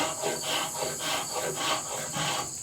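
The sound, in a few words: antique draw shave cutting fine wood shavings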